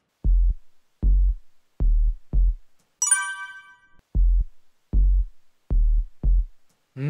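Very low sub-bass notes from a song, eight short deep thumps in a steady rhythm, loud and alone, with a brief bright ringing synth tone between them.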